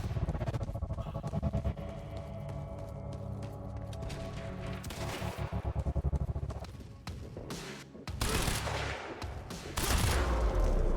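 Dense gunfire from the video game Quantum Break: rapid bursts and shots layered into a continuous loud fusillade with heavy booms, running throughout with no pauses.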